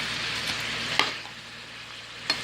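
Ground turkey, green peppers and onions fry in a pan with a steady hiss. A couple of sharp clicks of stirring utensils break through.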